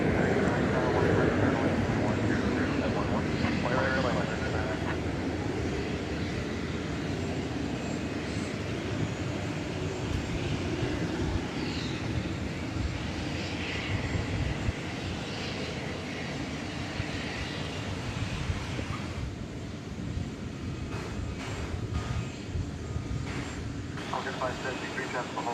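An airplane at DFW Airport at night gives a steady, distant engine roar that holds for the whole stretch, with faint voices murmuring underneath.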